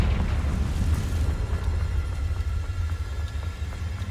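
The Confringo fire spell erupts in the video game Hogwarts Legacy as a heavy, rumbling blast that rolls on continuously with a deep roar and crackling debris, loud from start to finish.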